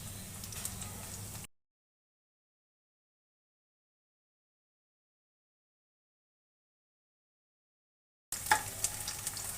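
Pumpkin flower fritters sizzle in a pan over a medium-high flame, a steady frying hiss heard briefly at the start and again at the end, with a long silent gap between.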